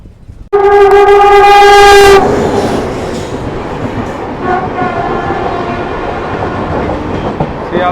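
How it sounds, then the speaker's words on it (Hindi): The Digha Express departs Durgapur railway station in India with a loud, sustained horn blast, then rumbling wheels and clickety-clack of rail cars rolling steadily onward, close and alone. "तो फिलहाल अपने समय से 3 मिनट डिले हम डिपार्ट कर रहे हैं दुर्गापुर रेलवे स्टेशन से"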